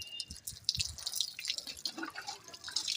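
Water dripping and splashing during a cold-evening bath, irregular close drops and trickles falling in quick uneven bursts with no talk over them.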